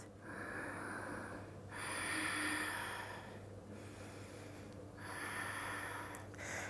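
Slow, deep breaths drawn in and let out during a standing yoga twist in a full-body vinyasa flow: three long, soft airy cycles, close and quiet, with no talking.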